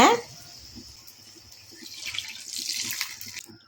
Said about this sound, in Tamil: தேவையான அளவு நம்ம தண்ணி சேர்த்திக்கலாங்க.